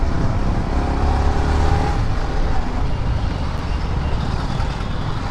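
Busy road traffic in Vathalagundu town, a dense steady roar of passing cars and heavier vehicles with engine rumble close by, continuous and loud with no clear gaps.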